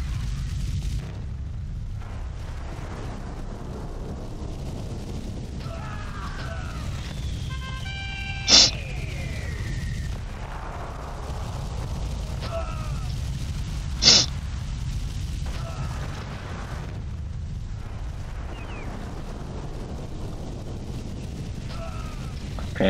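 Buildings blown apart by explosions in the strategy game Cossacks: Back to War, Prussian campaign: a steady low rumbling battle bed broken by two sharp, brief blasts several seconds apart.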